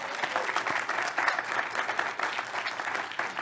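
Applause from an audience at an academy's national office report meeting, a steady, dense wash of many hands clapping that holds evenly for several seconds without pause.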